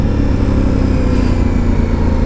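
A 2021 Aprilia Tuono 660 motorcycle engine drones steadily while riding, a loud close low-pitched hum mixed with wind, holding roughly constant revs with no talk.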